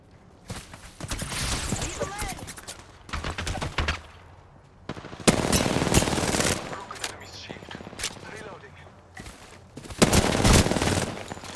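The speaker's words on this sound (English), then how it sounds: "Shots fired at me." Automatic gunfire in Apex Legends Arena, loud rapid bursts in three long volleys separated by short lulls, with a player's voice talking over parts of it.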